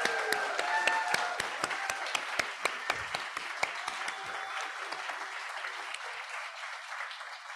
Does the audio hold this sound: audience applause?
yes